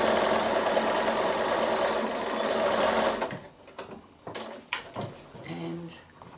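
A sewing machine stitching binding onto a quilt runs in a steady close whirr for about three seconds, then stops, followed by a few clunks and handling sounds.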